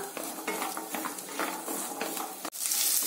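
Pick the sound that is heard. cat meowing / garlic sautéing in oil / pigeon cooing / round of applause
garlic sautéing in oil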